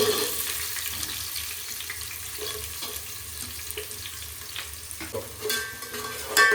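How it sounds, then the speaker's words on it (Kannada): Onions and green chillies fry in hot oil with a steady close sizzle, broken by occasional scraping stirs in the pan. No one speaks. "ಕಾದ ಎಣ್ಣೆಗೆ ಈರುಳ್ಳಿ, ಮೆಣಸಿನ್ಕಾಯಿ ಹಾಕೊಂಡಿದ್ದೀನಿ. ಚೆನ್ನಾಗಿ ಫ್ರೈ ಮಾಡ್ಕೋಬೇಕು."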